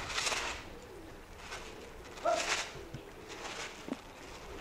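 Soft bird calls and cooing come in short bursts over quiet ambient noise, with a few faint rustles and taps.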